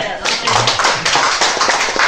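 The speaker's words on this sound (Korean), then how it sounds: "박수 박수." A crowd claps along at a Korean political rally, with dense, fairly loud hand claps that run steadily under a speaking voice for about two seconds.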